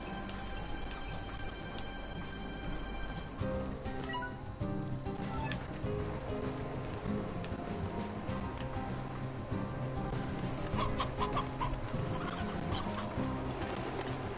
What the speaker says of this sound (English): They're chickens.